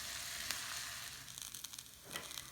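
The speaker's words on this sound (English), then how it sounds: "you want to saute several minutes, about like 2 to 3 minutes until renkon is start getting a little bit brownish" Sliced lotus root sautéing in a pan for kinpira renkon, a continuous soft sizzle with occasional crackles and stirring scrapes, quiet and without voices.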